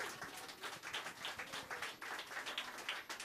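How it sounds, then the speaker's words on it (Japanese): An audience applauds after a live performance at a birthday concert, with steady, dense clapping heard faintly and at a distance for a few seconds. "皆さんもう一度盛大な拍手"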